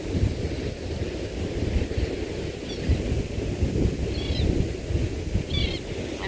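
A continuous low surf rumble rolls on steadily, mixed with wind noise, while a few faint, brief bird chirps sound in the distance.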